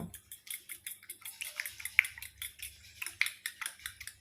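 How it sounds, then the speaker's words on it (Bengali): Eggs beaten with chili powder and salt in a bowl, a quick run of light, sharp clinking strokes of a utensil against the bowl in an even rhythm, close and fairly soft. "এবার আমি সুন্দর করে মিশিয়ে নেব।"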